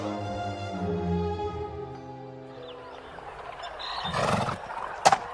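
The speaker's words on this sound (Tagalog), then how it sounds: "nadatnan ko rin si Osang na nagpapakain din ng kabayo" A horse neighs loudly near the end of a farm scene in a Filipino audio drama, following a long stretch of sustained tones with a brief shuffle of movement before the sharp whinny.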